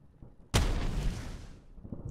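A grenade explodes in a World War 2 strategy video game: one sudden, loud, close blast after a quiet start, followed by a long rumbling tail that fades over about a second.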